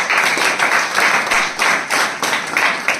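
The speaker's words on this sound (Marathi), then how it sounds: "त्यांच्यासाठी आपण टाळ्या वाजवून" At an ashram organisation's award ceremony, an audience claps for three mothers being honoured, the loud clapping coming in rhythmic surging waves about every half second.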